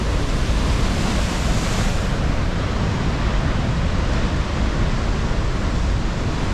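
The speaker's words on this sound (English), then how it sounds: "So you can see the waves come in, they smash against the wall." Ocean waves crash against a retaining wall on the Australian coastline, making a loud, steady, close roar of surf and spray that runs the whole time with no voices.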